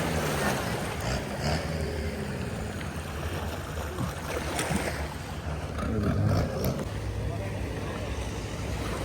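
Steady engine drone of a Thai long-tail boat running over water, continuous and fairly close, with rushing water noise throughout.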